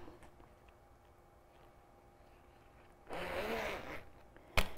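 Close by, a clothing zipper is pulled in one quick continuous stroke lasting about a second, following quiet room tone, then a sharp click as the pull stops.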